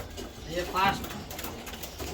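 Racing pigeons at a loft coo softly in a brief, close call over a steady background hum.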